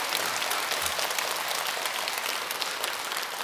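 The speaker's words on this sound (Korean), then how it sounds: "나는 내 입장에서 박수 한번 쳐주세요." An audience at a Buddhist dharma talk at Jogyesa temple applauds, a dense, steady wash of clapping that fills the whole stretch without pause.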